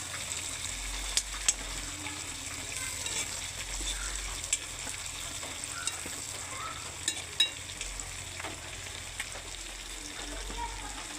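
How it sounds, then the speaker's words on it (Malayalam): Herbal medicine fries in hot oil, giving a continuous soft sizzle with scattered sharp pops and crackles as moisture spits out, fairly faint and steady, with a low hum beneath and no voices. "അതിൻ്റെ ഈ വെള്ളത്തിൻ്റെ അംശമെല്ലാം പൊട്ടി തെറിച്ച് നല്ലൊരു കളർ വരും"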